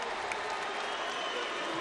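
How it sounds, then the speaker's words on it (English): Audience applause after the Andy Ruiz heavyweight boxing fight, a dense continuous wash of clapping from a large crowd, steady and fairly distant. "can we give a round of applause for Andy Ruiz"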